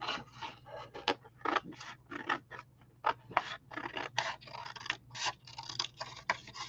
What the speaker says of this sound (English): And I just keep my scissors.